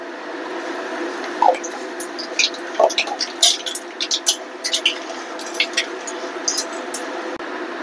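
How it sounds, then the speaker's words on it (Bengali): Dried red chilies and nigella seeds sizzle in hot mustard oil as a tempering for a grated giant taro dish, a steady close hiss dotted with sharp crackles and pops. "তেল গরম হয়ে গেছে, এবার শুকনো লঙ্কা আর কালো জিরে ফোড়ন দেবো।"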